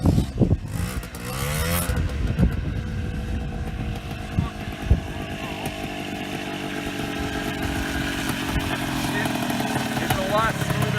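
A Polaris Trailblazer ATV engine runs steadily close by just after a gear case fluid change, a continuous motor drone with some uneven revving, while people talk over it.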